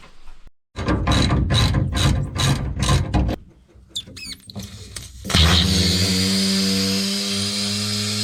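Socket ratchet working an air ride safety valve loose, a burst of rapid clicking strokes close up, then clunks and handling noises, followed by a steady hiss of escaping air.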